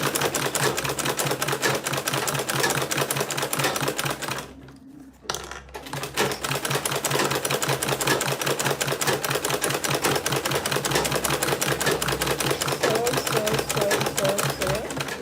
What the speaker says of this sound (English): so I'm just going to sew around it.